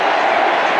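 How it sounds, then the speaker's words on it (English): Stadium crowd at a cricket match roaring and cheering as a batsman closes on a century, a dense, loud, continuous wash of voices and applause with no pauses. "The crowd's going nuts here."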